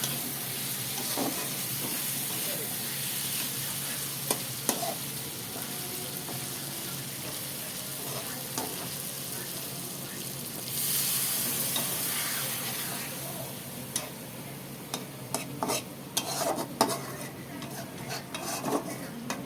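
Egg curry (dim kosha) frying in a pan, a steady sizzle broken by scrapes and metallic taps of a spatula against the pan, close and continuous, busier toward the end.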